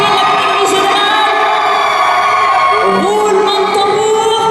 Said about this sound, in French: Je veux vous entendre crier.